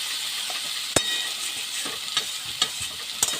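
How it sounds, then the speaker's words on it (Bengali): Small lote fish fry over low heat in a pan, giving a soft continuous sizzle while a utensil stirs and turns them, with a few sharp clinks and taps against the pan. "দেখুন এইভাবে আস্তে আস্তে করে উল্টে উল্টে ঝুরঝুরো করে ভেজে নিতে হবে।"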